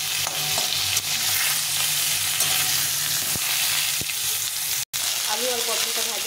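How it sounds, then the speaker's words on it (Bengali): Potato and pointed gourd fry in a pan with a loud, steady sizzle and occasional scraping as they are stirred. A voice begins speaking near the end. "আলু আর পটলটা ভাজা হয়ে গেছে।"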